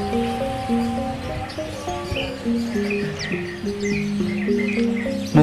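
Small caged birds at the Joyo bird market in Madiun chirp and tweet steadily, with many overlapping bright calls over a low hum of market noise and no clear speech.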